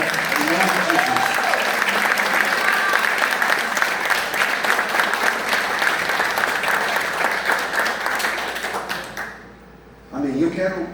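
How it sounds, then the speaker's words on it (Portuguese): A church congregation at a dedication service claps steadily and loudly for about nine seconds, a dense continuous wash of hands with voices mixed in, then it fades out and a voice begins. "aplaudindo ao Senhor agora"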